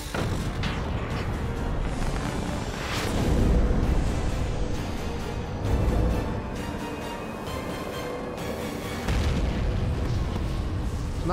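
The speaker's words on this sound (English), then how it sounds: "Not really an explosion, more like the ship just kind of fell apart." A spaceship breaking apart in the video game Halo 4, heard as a sustained rumbling roar with deep booming surges and crumbling, debris-like crackle that stays loud and dense throughout, with no talk.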